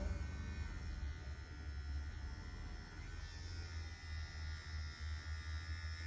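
A Bitrontix electric face massager runs against facial skin with a close, steady vibrating buzz and low hum that holds throughout, with no talking.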